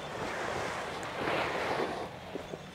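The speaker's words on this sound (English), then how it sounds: "that's usually when we get these gusts here" Wind gusting around a paraglider in flight, a broad rushing roar against the microphone that swells into a stronger gust midway before easing off again.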